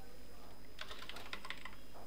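Quick burst of close, fairly quiet keystrokes as CSS code is typed on a computer keyboard, roughly a second of clicks over a steady low hum, with no voices.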